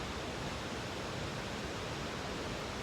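Mountain waterfall near Watchman Lake on a backcountry hike, a dense, steady roar of falling water, constant and broadband with no pauses or voices.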